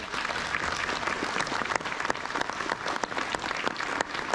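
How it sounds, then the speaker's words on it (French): An audience applauds at a New Year's greetings ceremony, sustained dense clapping from a full room, steady and fairly loud throughout. "On peut l'applaudir."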